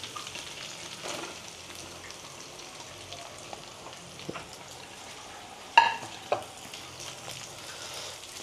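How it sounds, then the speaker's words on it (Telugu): Green chillies fry in ghee with cumin for jeera rice, a quiet, steady low sizzle with scattered small pops and a couple of sharper crackles. "నెక్స్ట్ పచ్చిమిర్చి వేసేద్దాం."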